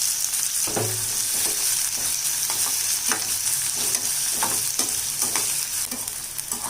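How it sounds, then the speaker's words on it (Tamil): Chopped onion and curry leaves sauté with mustard seeds in a hot pan, giving a steady close sizzle with occasional scrapes and clinks of a spoon stirring through, no voices. "கொஞ்சம் வெங்காயம் நல்லா வதங்கட்டும்"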